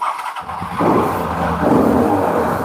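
A used 2021-model Turbo motorcycle engine runs nearby, a steady loud idle that swells after a quiet start and holds a rough, continuous drone throughout with no talking.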